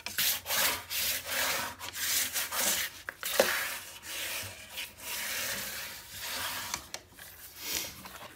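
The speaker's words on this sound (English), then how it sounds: "Now we're going to burnish." A handmade album cover is burnished by hand: repeated rubbing strokes in bursts of about half a second to a second, close and fairly quiet, with short pauses between passes and no talking.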